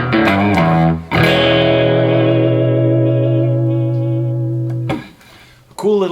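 A 1967 Danelectro electric guitar with a single coil pickup and hand vibrato, played turned all the way up, rings out with loud sustained chords, a sharp re-strike after a second, then a long decay and further strums.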